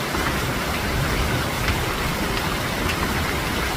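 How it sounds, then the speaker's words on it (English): Hail from a passing storm in Monmouth County, New Jersey, falls as a steady, dense hiss of pelting ice that stays constant throughout, with no voices over it. "Check out this footage of a hailstorm."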